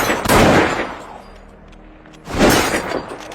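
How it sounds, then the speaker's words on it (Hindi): Gunshots in a movie scene, fired by an elderly landlord holding a gun. Two loud, sharp bursts about two seconds apart boom out and ring down, with quieter rumble in the gap between them. "गोलियों की आवाज से डॉसन के पिता का नशा उतर गया"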